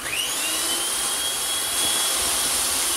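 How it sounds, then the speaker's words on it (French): Electric whisk beating chocolate-coffee mousse for a flan pâtissier, a steady high-pitched motor whine that rises slightly in pitch and runs continuously and close up, with no talking. "Je fouette encore quelques secondes."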